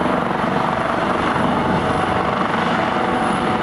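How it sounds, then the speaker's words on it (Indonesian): A rescue helicopter works high on Mount Fuji, around 3000 metres up, its rotor and engine roaring loud and steady throughout, close by, with no voices. "akhirnya harus diselamatkan pakai helikopter"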